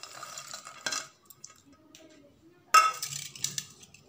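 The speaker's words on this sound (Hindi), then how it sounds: "अब इसमें काजू डाल दें जो मैंने तोड़ के रखा हुआ है।" Broken cashews dropped onto rice in a pressure cooker give two short clinking clatters against the metal pot, separated by quieter rustling and handling noises.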